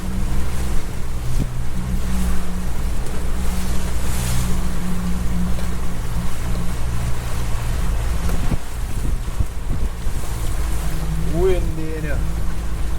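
Strong wind and rough waves buffet a fishing boat at sea, producing a loud, constant rush of wind noise over low engine rumble, with voices heard briefly near the end.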